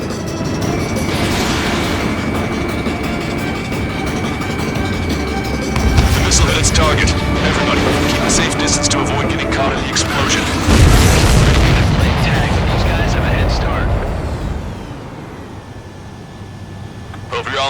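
Loud, continuous Ace Combat 7: Skies Unknown battle noise with heavy booms and blasts, a big explosion swelling around the middle and easing off near the end.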